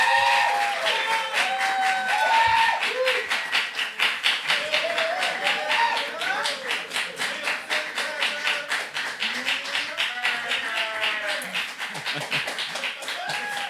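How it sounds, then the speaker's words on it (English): An audience claps to welcome a performer onto a stage, dense sustained applause from a room full of people, steady and close with scattered whoops, slowly thinning toward the end. "please help me welcome on stage with a warm applause"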